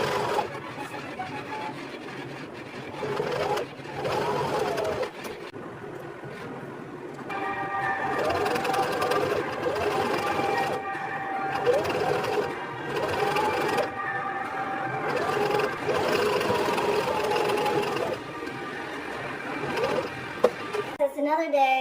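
A sewing machine runs in bursts of mechanical whirring and rhythmic stitching, close and fairly loud, with pauses between runs and speech heard in places.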